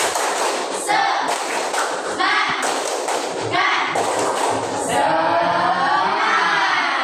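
Classroom students standing for a rhythmic spirit clap, sharp group claps and thumps in short repeated bursts with chanting voices, loud and close.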